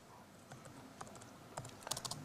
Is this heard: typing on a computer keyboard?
yes